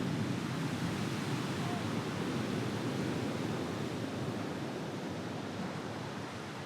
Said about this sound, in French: Contre ces reliefs presque verticaux qui sont tout le long de la côte, la mer frappe